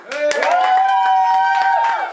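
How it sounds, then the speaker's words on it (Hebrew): Several people at a birthday party clap for Yamit, with quick irregular claps beneath a long drawn-out chorus of cheering voices, close by and fairly loud throughout. "כפיים לימית"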